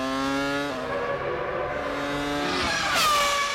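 Jean Alesi's Prost Formula 1 car pushing hard in a 2000 qualifying run, its high-pitched engine whine sweeping down through gearshifts and then screaming back up as the car passes.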